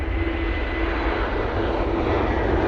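A Ryanair jet departs off runway 23 right at Manchester Airport at night, producing a loud, continuous engine roar with a low rumble and a thin tonal whine, steady from start to finish with no talk.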